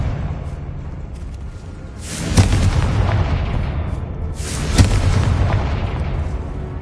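Two heavy explosive blasts from the Confringo spell in the Hogwarts Legacy video game, each a loud booming burst a couple of seconds apart that decays into a rumbling roar.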